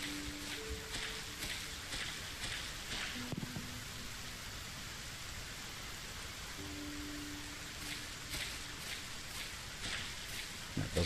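Steady, soft rain hisses in a video game, an even and continuous wash with a few faint tonal blips.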